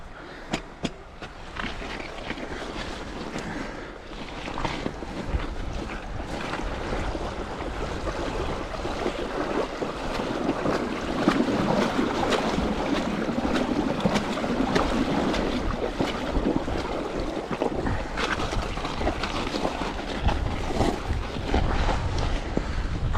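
River water rushes steadily throughout a crossing on the way to a wild campsite, a broad continuous wash with gusty wind noise on the microphone and no voices.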